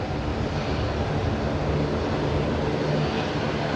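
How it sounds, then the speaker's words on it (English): A Saab 340 turboprop arriving at Brisbane Airport, heard as a steady, loud broadband engine roar with a low droning hum that holds evenly throughout, with no voices. "incoming Saab on Bay 50 Alpha, though. That'll be coming in right in front of us here."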